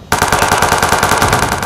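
Rapid automatic gunfire from the video game Watch Dogs 2, a loud, dense burst of rattling shots firing continuously after a sudden start.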